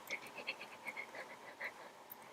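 A voice imitates a sneeze with a series of short, high-pitched squeaky bursts, fairly quiet and uneven in rhythm over a soft background.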